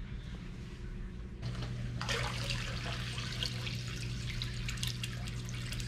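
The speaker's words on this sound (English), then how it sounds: "So I'm just gonna turn on the waterfall so you guys can see what it looks like" Steady splashing water runs continuously, growing fuller and louder after a couple of seconds, a small waterfall trickling in an indoor turtle pond.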